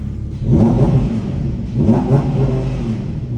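A wrecked Audi R8 engine with a soft rev limiter revs twice in quick succession, each deep rumbling blip rising and falling, heard up close.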